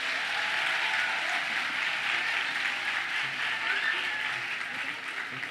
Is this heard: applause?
yes